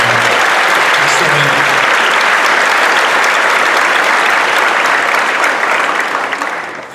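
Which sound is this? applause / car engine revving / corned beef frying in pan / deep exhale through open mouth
applause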